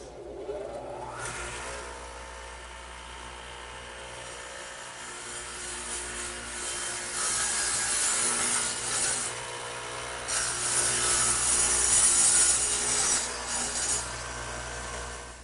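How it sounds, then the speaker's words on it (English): A radial arm saw fitted with a dado head, two blades set at an angle, plows material out of wood in a woodworking shop, a loud sustained whine and rasping cut that swells in intensity over several passes. "the radial arm is set up with a dado head, which is just 2 blades at an angle to one another, so they plow out material"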